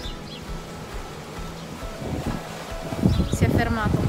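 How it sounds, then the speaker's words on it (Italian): Fresh wind blows across a lakeshore where swans are present, a steady soft rush of air with gusty buffeting on the microphone that grows rougher and louder toward the end. "Sentite il vento abbastanza fresco."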